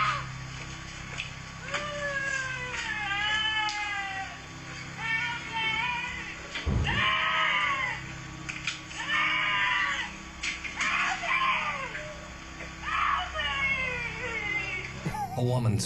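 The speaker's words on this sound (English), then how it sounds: "A woman screams out for help as she seemingly walks calmly down the street in front of Oscar's home." A woman screams and cries out repeatedly in high, wailing bursts on a street outside a home, heard through a played phone recording, with steady background hum and a sharp thump midway.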